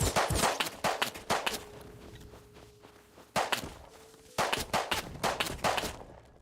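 Gunfire in the game Rust: sharp loud shots crack out in quick clusters, some rapid like a burst, with a lull in the middle before more reports and scuffling thumps return near the end.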